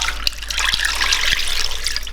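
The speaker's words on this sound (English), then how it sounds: "Also a couple of splash of white wine and some milk." White wine and milk poured into a pan in a thin, steady trickling stream, a close liquid splash with a few soft knocks over a low background hum, no voices.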